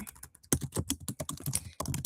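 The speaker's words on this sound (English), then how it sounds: "I'm typing that in." A computer keyboard is typed on rapidly and close up. Fast clicking keystrokes come in quick bursts with a couple of brief pauses, and no voices are heard.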